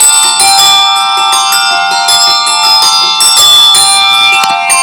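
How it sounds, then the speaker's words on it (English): Several hand bells ring in a brisk, overlapping run, bright sustained tones layered close and loud throughout, with no talking. "You're ringing your bell, Hancock, when I should be ringing mine"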